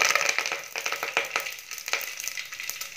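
Mustard seeds crackle and pop sharply in hot oil for kadhi pakoda, a close, continuous sizzle with rapid irregular bursts.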